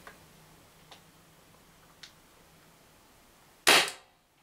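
First Strike T15 paintball marker firing a single home defense slug: faint ticks first, then one sharp, loud report that decays quickly into quiet.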